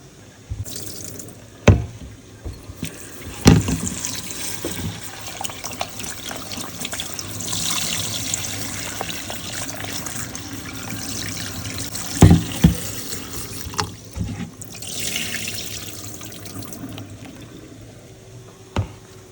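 Lentils washed under a running kitchen tap, a continuous splashing water stream with a few louder knocks and sloshes of a bowl, and no voices.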